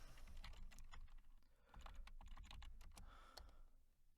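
Fingers tap away on a computer keyboard, with quick irregular key clicks at close range over a low background hum and no voices.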